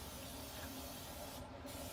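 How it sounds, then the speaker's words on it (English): Olive oil hisses from a spray can onto buns, a faint, steady, close spritz lasting under two seconds. "I like to just use a little spray olive oil."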